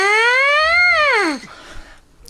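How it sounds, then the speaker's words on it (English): Lips buzz into a bare trumpet mouthpiece with no instrument attached: one loud, close, buzzy tone glides upward, then slides back down and fades after about a second and a half, leaving near silence. "We make a sound on the trumpet by buzzing our lips into the mouthpiece"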